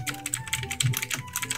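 Rapid typing on a computer keyboard, a dense, uneven patter of crisp key clicks, close and fairly loud, with no talk.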